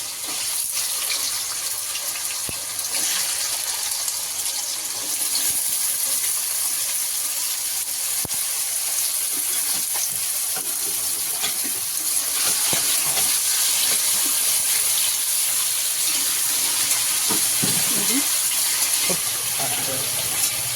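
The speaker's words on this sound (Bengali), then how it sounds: "ওই ফোড়নের মধ্যে আলুটা দিয়ে আলুটা লাল লাল করে ভেজে নেবো নুন হলুদ দিয়ে" Potatoes fry in spiced oil with salt and turmeric, a loud continuous sizzle and hiss that holds steady for about twenty seconds, with occasional clicks and light stirring knocks and some faint talk.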